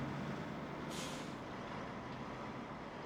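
A video-game truck rolls in over a steady, loud engine rumble and lets out one sharp burst of air-brake hiss, with no talking.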